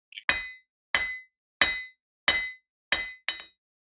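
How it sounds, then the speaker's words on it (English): A metalsmith's hammer strikes metal in six sharp, ringing blows spaced evenly about two-thirds of a second apart, each with a bright metallic clink and a brief decay, alone and close up. "As a metal smith, you jump at the chance for hammering the metal."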